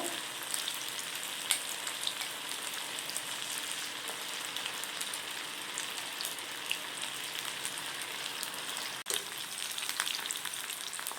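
Baby corn chilli frying in oil over a medium flame gives a steady, even sizzle with fine crackles throughout, close by, with one brief clink near the end.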